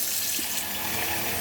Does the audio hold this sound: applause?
no